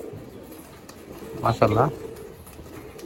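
Pigeons perched on a roof coo faintly and steadily, with a brief louder burst partway through as a person speaks over them.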